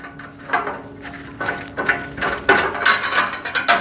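Metal screw being driven and tightened into a rivet point on the top support of a 74-bin parts organizer rack, with repeated ratcheting clicks growing louder and denser toward the end, close up.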